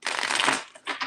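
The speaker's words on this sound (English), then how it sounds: "Give me 6 cards for four more shuffles." Tarot cards being shuffled by hand, a dense papery riffle and flutter that runs loud for about half a second, dips, then resumes in shorter bursts.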